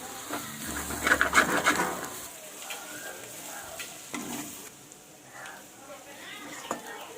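Spoon stirring onion-chilli paste with ivy gourd in a sizzling pan, a soft scraping rhythm over steady frying hiss, with faint talk nearby.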